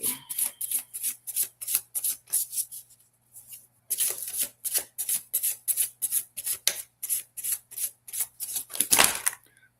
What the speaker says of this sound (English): These cards aren't easy to shuffle.